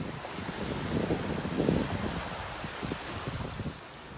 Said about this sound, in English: The waves coming in, definitely a lot darker than what we're used to seeing.